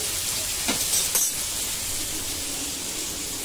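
Pomfret pieces coated in masala fry in oil on a low flame, giving a steady, even sizzle that holds throughout, with a couple of brief clinks near the start.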